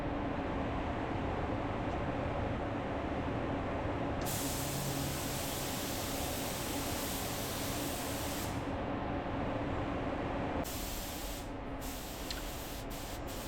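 An aerosol can sprays a light coat of Revolt Clear onto a guitar body in long, close hissing bursts, with brief pauses between passes and a quieter final stretch.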